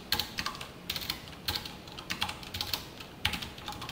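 Close fingers typing code on a computer keyboard during a React programming lesson, with quick clusters of crisp key clicks separated by short pauses and no talking.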